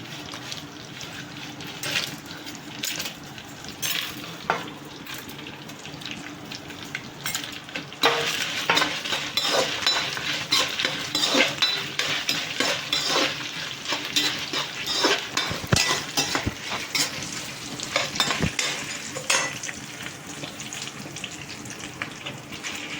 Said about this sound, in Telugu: ఇవన్నీ వేయించుకోవాలండి